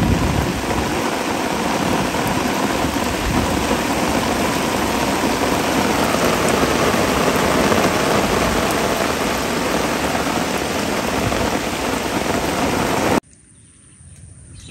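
Heavy rain pours down steadily during a fishing outing, a dense, loud, unbroken hiss of drops on surfaces that continues evenly before ending abruptly.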